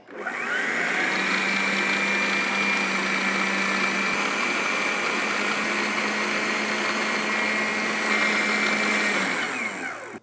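A blender whirs steadily through basil pesto with plenty of oil and Parmesan, a loud continuous motor whine that runs without a break for about ten seconds before cutting off.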